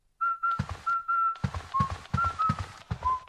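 A bright whistled melody from the Luigi's Mansion video game soundtrack, short sustained notes in a jaunty rhythm over punchy bass thumps from the accompanying music, loud and close with no talk.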